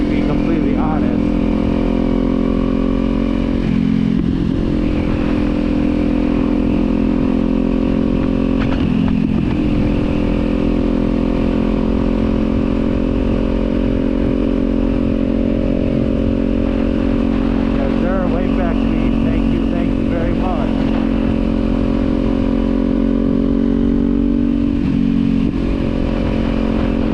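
A Kawasaki Z400 motorcycle with an aftermarket exhaust runs steadily close by, its droning engine note dipping briefly at a few points as if shifting or easing off, with someone talking over it throughout.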